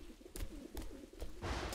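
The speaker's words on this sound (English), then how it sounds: "And all them pigeons." Pigeons coo softly in the video game Observer System Redux, a few quiet repeated calls over faint ambient background, with a brief louder rustle near the end.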